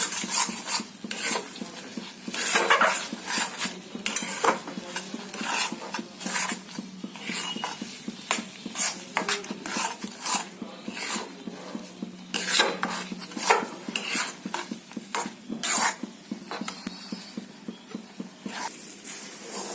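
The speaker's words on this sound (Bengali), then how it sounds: "দেখুন একদম জল টেনে নিয়েছে, ভাজা ভাজা হয়ে গেছে।" A spatula scrapes and stirs green pea filling with sugar as it dries in a pan, making rhythmic, close scraping strokes over a soft sizzle for the whole stretch, with no talking.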